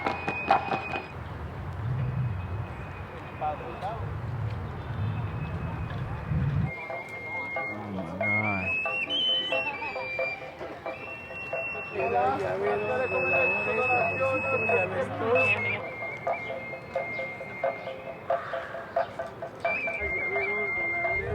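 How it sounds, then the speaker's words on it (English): Aztec death whistle blown in Mexico City, giving piercing, wavering shrieks and screams that bend in pitch, loud and close, in several long blasts with voices around. "It's called a death whistle."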